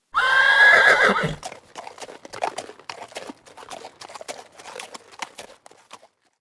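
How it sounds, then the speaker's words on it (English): A loud horse whinny opens, then the hooves of a carriage horse clip-clop in a quick, uneven rhythm that carries on to the end without any talk. "The sound of the horse's hooves from the carriage"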